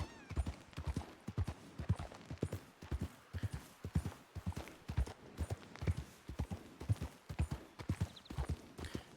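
Horse hooves clip-clop in the medieval role-playing video game Esoteric Ebb, a steady, rhythmic pattern of close, distinct hoofbeats running throughout at a moderate level.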